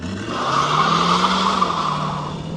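Tires of a 1966 Ford Mustang convertible with a 289 V8 squeal loudly over the revving engine, a sustained screech rising and holding for a couple of seconds as it accelerates hard.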